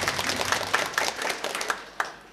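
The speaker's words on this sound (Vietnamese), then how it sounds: "Chúng con xin nộp một tràng pháo tay để cảm ơn sự hiện diện của cha quản hạt Giuse." Congregation in a Catholic parish church in Vietnam applauding during a midday concelebrated Mass, a steady wash of clapping with a few sharper individual claps standing out, sustained throughout.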